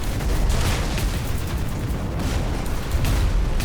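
Bombing run explosions in the battle game Warhammer 40,000: Dawn of War IV, a dense, rumbling barrage of booms and blasts that holds loud and continuous throughout, without voices.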